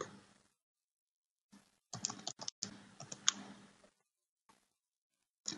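Text is typed on a computer keyboard in a few quiet bursts of rapid key clicks, separated by silent pauses, close and clear.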